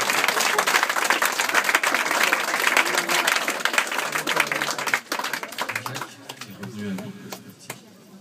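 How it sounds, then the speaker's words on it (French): A café audience at a hypnosis show claps for a volunteer, a full round of dense applause that holds for several seconds, then thins to scattered claps while a voice speaks over the fading tail. "Merci d'applaudir Jean-Jacques, s'il vous plaît."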